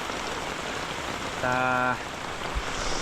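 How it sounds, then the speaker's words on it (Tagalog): Dense, steady hiss of heavy rain drumming on a tent tarp at a seaside campsite in Dingalan, Aurora, with a brief tonal beep partway through. "sobrang lakas ng ulan, grabe"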